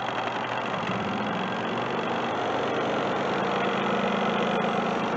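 Mini washing machine on its spin cycle, a steady whirring drone with a faint rattling vibration, running alone at moderate level without speech.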